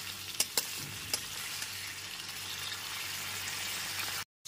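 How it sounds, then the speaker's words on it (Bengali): Potatoes fry in oil in a pan over a medium gas flame, a soft continuous sizzle with a few sharp clicks and pops early on, then a brief cut to silence near the end. "গ্যাসের ফ্লেমটা মিডিয়ামে রেখে আলুগুলো এখানে ভেজে নিয়েছি।"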